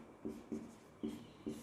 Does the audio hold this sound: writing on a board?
yes